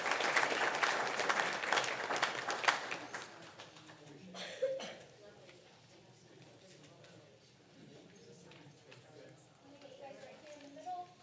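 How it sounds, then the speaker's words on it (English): Audience applause for high school cadets after they presented the colors at a school board meeting, clapping through the first four seconds that then fades out, followed by a quieter room with a cough and faint murmuring. "A big round of applause for them as well"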